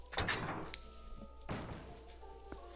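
A locked door in Zelda: Twilight Princess opens with heavy thunks and a scraping slide, followed by a second deep clunk and a faint click, all at moderate loudness.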